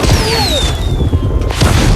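Fireworks burst in a scene from The Fellowship of the Ring, loud booming explosions mixed with whistling rising streaks and crackle, up close and dense for the whole stretch.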